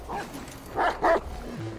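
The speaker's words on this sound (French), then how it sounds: "C'est le chien." A dog in Watch Dogs 2 lets out two quick, close barks with a yelp-like edge, in game audio with a low rumble beneath.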